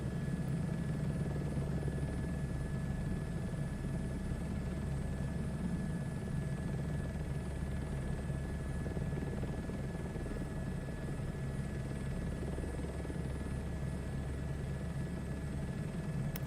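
Helicopter cruising at high speed, about 135 knots, over the Badlands: a steady, loud, unbroken rotor and engine roar with a constant whine, heard alone for the whole stretch.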